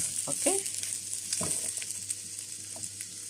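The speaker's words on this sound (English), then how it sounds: "after 2 minutes of stir frying, I'm going to add the stock." Rice with vegetables stir frying in a pan, a steady bright sizzle running throughout with occasional soft clinks and scrapes of stirring, moderately loud and close with no talk.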